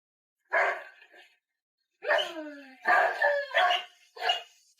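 A dog barks in several separate bursts with silent gaps between them, the calls close and clear, some ending in a whiny yip.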